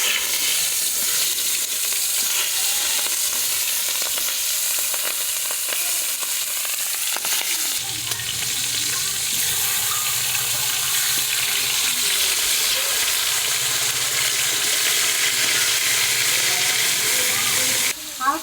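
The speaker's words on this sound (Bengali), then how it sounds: "হালকা করে ভেজে তারপরে ইলিশ মাছটা আমি রান্না করবো।" Hilsa fish fries lightly in hot oil in a pan, giving a steady, bright sizzle that runs throughout, with faint clinks and low kitchen sounds joining in partway.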